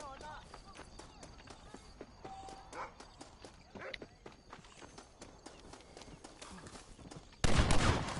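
Horse hooves clip-clop in Red Dead Redemption 2, a steady run of fairly faint hoof beats with a louder burst near the end, under someone talking.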